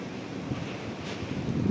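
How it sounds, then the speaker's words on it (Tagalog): Strong typhoon wind gusting in Hong Kong near scaffolding, a broad steady roar with buffeting rumble on the microphone that swells slightly toward the end, with no one talking. "Ayan, lumalakas yung hangin."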